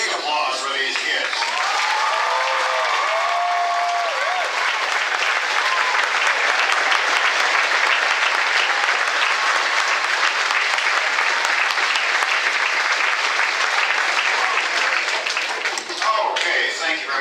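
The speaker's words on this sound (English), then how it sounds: "Let's have some big applause for these kids." A school Christmas concert audience applauding the middle school performers, dense sustained clapping for around fifteen seconds with a few voices at the start and end.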